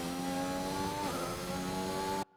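A race car engine in a racing game, held at full throttle through a corner: a steady, loud, high-pitched drone with a slight dip in pitch midway, cutting off abruptly at the end.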